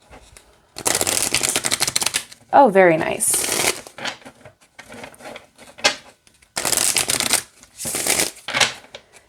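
Several bursts of crisp, rapid card riffling, loud and close, with a person talking briefly between shuffles.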